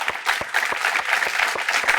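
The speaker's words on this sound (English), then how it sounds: "Round of applause for those amazing judges" Audience applause at a student technology competition world championship, a dense wash of many hands clapping with some individual claps standing out, steady and fairly loud.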